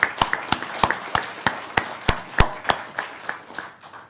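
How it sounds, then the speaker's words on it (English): Audience applause for the organizers of a pipeline-safety workshop on underground natural gas storage, led by a few loud, sharp, evenly spaced claps close by over a softer, scattered clatter of hands. "So a round of applause for you guys"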